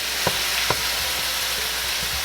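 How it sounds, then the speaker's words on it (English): Ground beef sizzling steadily in a hot pan, a dense crackling hiss with a couple of sharper pops, close and fairly loud, no talking. "Do you like the sizzle? I'm gonna let this brown up nicely."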